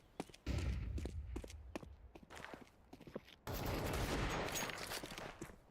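Gunfire in a Counter-Strike 2 collegiate match crackles in quick bursts, with sharp close shots, a dense rapid volley and footsteps mixed in between.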